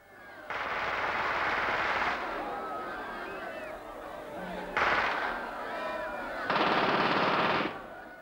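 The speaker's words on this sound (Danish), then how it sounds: "En serie provokerende skud." Three bursts of rapid automatic gunfire, each lasting a second or more, crackling loudly with brief pauses between them.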